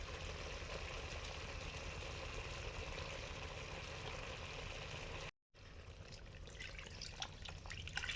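Water is poured into a simmering tamarind curry with lightly fried eggplant, a soft continuous splashing stream, faint and close, briefly cut by a silent gap and followed by quieter bubbling and clatter.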